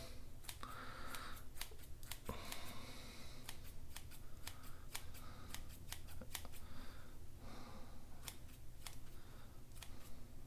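Scissors trim a beard in a steady run of rapid, sharp snips close to the microphone, repeated unbroken over several seconds, with no speech.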